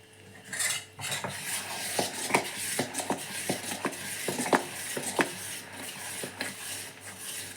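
Dosa batter hitting a hot oiled pan over a medium flame, a steady hiss broken by frequent sharp metallic clinks and scrapes of a ladle or spatula against the pan, close and fairly loud with no talking.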